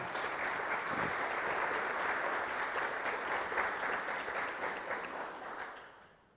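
Audience applause at a business conference on company development in Africa, a steady dense clapping from a full room that holds for about five seconds and then thins and fades out.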